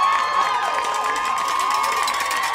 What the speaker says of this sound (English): PH crowd starting to celebrate the win